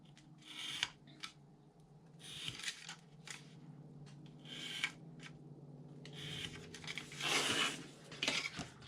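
A finger blade knife angle-cuts through scrap paper in short, crisp, close scraping strokes, several separate slicing sounds with brief pauses between.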